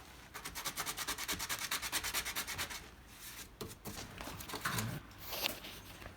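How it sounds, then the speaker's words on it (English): Sandpaper rubs back and forth over cured body filler on a Chevy pickup, with quick rhythmic strokes for the first few seconds and then slower, scattered scrapes and light handling noises nearby. "There was another ding here, so I fixed that. Sanded that one out."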